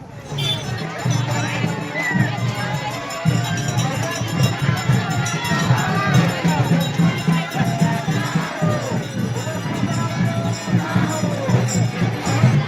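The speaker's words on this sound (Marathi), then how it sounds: "इथं दर्शनासाठी घेण्यासाठी बघा किती गर्दी आहे" A dense crowd of devotees mills and chatters at the Mankapur village yatra outside Malkarsiddha's temple, a steady, close hubbub of many overlapping voices and footsteps with someone speaking over the din.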